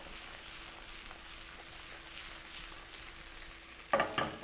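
Potato gnocchi get tossed in a pan with butter, sage and cinnamon, giving a quiet steady sizzle with a couple of sharper scraping clatters at the end.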